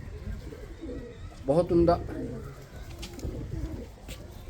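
Pigeons coo close by, a soft burst of low cooing near the middle with fainter calls around it, under brief talk and steady background noise.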